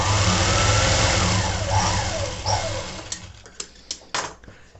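An electric sewing machine runs in a fast continuous whir while stitching the front patti of a blouse, then stops and gives several short bursts of stitching alone.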